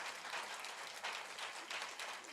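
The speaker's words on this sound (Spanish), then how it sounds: "Denle un aplauso a Dios." A church congregation applauds during a sermon, a sustained wash of many hands clapping at moderate volume, even and unbroken for a couple of seconds, with no speech on top.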